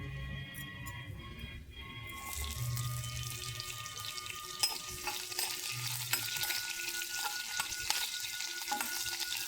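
Green chillies hit hot oil in a pan, starting with quieter running-water and clatter before a steady crackling sizzle rises and continues with occasional stirring scrapes, close by and without talk.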